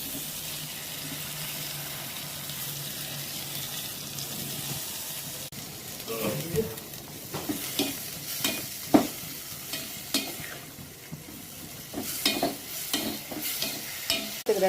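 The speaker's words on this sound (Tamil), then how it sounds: "வெங்காயம் தக்காளி நல்லா வதங்கிடுச்சு பாருங்கள்." Onions and tomatoes with rock salt sautéing in a pan, a soft sizzle with intermittent stirring scrapes and clatters growing busier partway through, close and moderately loud with no talking.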